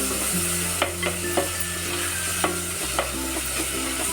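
Chopped tomatoes sizzle steadily in a hot pan, with a few soft clicks of a spoon stirring through the frying.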